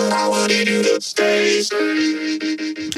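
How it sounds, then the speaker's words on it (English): Vocoded vocal line carried by a detuned saw synth from Ableton's stock wavetable, with steady harmonic tones, two brief gaps and shifting held notes, loud and alone throughout. "the vocoding chain right here sounds like this"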